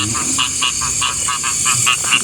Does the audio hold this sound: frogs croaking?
yes